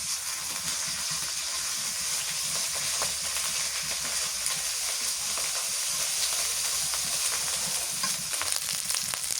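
A paste of garlic, ginger, cumin and garam masala fries in a pan, a steady bright sizzle and hiss throughout with faint stirring, fairly quiet and without talk.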